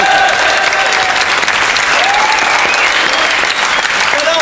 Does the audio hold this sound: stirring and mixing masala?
no